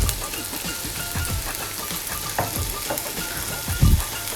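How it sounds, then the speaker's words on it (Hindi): Ginger garlic paste and chopped vegetables fry in a pan with a steady close sizzle, soft crackles and light stirring scrapes, and a heavier clack near the end. "अदरक लहसुन पेस्ट ऐड करने के बाद इसको हल्का हल्का फ्राई करेंगे"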